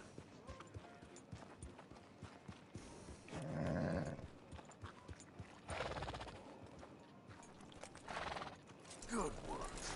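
A horse whinnies several times over clip-clopping hooves and creaks in Red Dead Redemption 2, fairly quiet and game-like.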